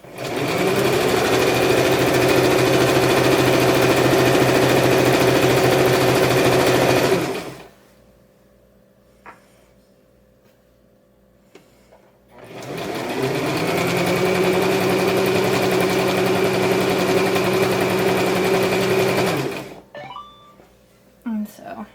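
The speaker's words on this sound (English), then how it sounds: "You go backwards with your stitching as well, and what that does is it locks the thread" A home sewing machine runs backwards over a dress seam to lock the thread, its motor whirring in two long, steady bursts of about seven seconds each, separated by a quiet pause.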